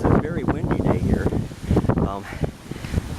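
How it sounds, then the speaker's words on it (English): Strong wind buffets the microphone outdoors in Michigan near a groundhog hole, a steady rushing roar that rises and falls in gusts, with a person talking throughout. "It is a very windy day here"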